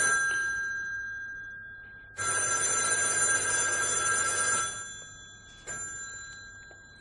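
A telephone rings with a long, bright metallic bell burst lasting a couple of seconds, then a second ring starts, heard in a quiet room.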